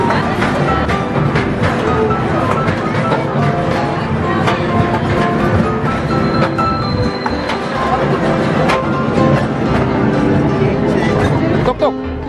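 A small amusement park train ride at Everland in Korea rumbles and clatters steadily, with wheel noise filling the whole stretch and no clear pauses.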